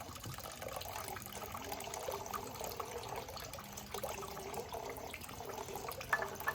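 Water pours and trickles steadily at a shrine purification fountain in Nara Park, a soft continuous splashing stream with a faint outdoor background and no speech.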